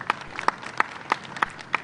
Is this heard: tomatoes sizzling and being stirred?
no